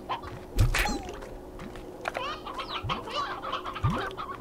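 Chickens in the video game Slime Rancher cluck and squawk in short, scattered bursts, close and fairly loud, over a faint steady background hum.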